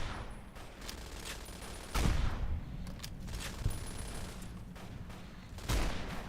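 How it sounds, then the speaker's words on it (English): A minigun fires in a video game, fast rattling bursts of gunfire with a few heavier booming impacts, moderately loud and steady beneath the game's background sound, with no talking. "Minigun."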